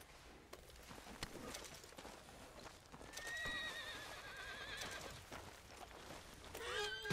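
Horse hooves clip-clop steadily in Red Dead Redemption 2, with a horse whinnying and snorting loudly partway through and again at the end, set against an outdoor ambience with faint bird calls.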